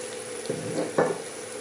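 Whole cinnamon, cloves, cardamom and dried lemon frying in hot oil for mutton mandi, giving a soft steady sizzle with two brief louder crackling bursts as the spices hit the pan.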